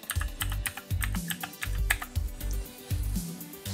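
Computer keyboard typing at a desk while editing in Premiere Pro, a run of quick, close keystrokes in uneven clusters with no voices.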